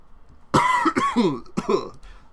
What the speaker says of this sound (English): I cough a little